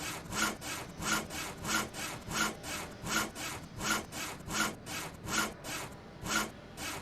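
A wood hand saw in GTA 5 RP rasps through timber in a steady back-and-forth rhythm of about a dozen even, close strokes, with no talking.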